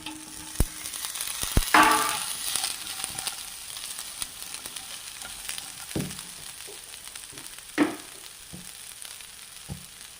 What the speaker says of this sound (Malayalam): നമുക്ക് നമ്മുടെ പയർ അരിഞ്ഞ് വെച്ചിരിക്കുന്ന പയർ ഇട്ട് കൊടുക്കാം